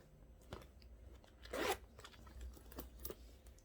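A short handbag zipper-pocket rasp rises near the middle, surrounded by faint clicks and fabric handling, close and quiet with no talking.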